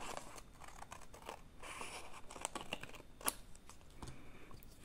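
Scissors cutting folded paper along the crease for a children's advent calendar craft, a run of soft crisp snips and rustles at close range, fairly faint, no talk.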